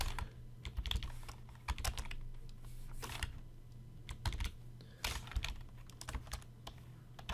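Typing on a computer keyboard in short irregular bursts, with close crisp key clicks over a low steady hum.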